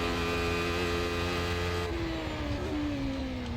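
Racing-sim car engine running flat out at a steady, loud whine, the pitch then sliding gradually lower as the revs fall, with no talking.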